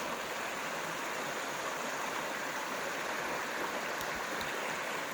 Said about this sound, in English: sleeping with the sound of that running water